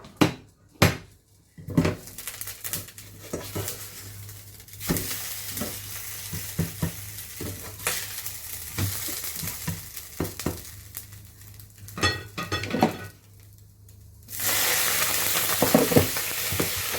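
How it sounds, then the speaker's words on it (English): A souffle pancake cooks in a pan on very low heat, giving a quiet sizzle with scattered clinks and scrapes of utensils against the pan, then a louder hiss as water hits the oil near the end. "So the souffle is cooking now on a low heat, okay, guys?"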